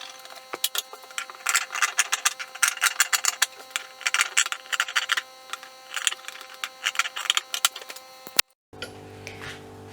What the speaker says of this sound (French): je vais venir couper 2 carrés 5 sur 5 cm